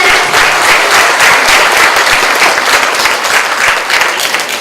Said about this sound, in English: let's give them a big applause again